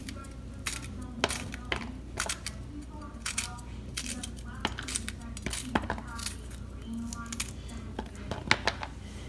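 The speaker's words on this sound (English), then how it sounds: "cut the tip off, and then you discard that, and then you slice." A knife cuts okra on a cutting board, trimming the tips and slicing, giving a series of sharp, close taps and clicks at an irregular pace while a person speaks over them.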